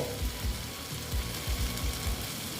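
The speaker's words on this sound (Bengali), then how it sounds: "দেখো একটু নেড়ে চেড়ে নিচ্ছি" Okra pieces for a quick spiced bhindi dish sizzle steadily in a hot pan, with a rhythmic series of soft scraping strokes as they are stirred, close and moderately loud with no talking.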